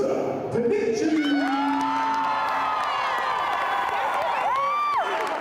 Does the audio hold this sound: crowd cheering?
yes